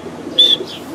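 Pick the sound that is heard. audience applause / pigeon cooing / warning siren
pigeon cooing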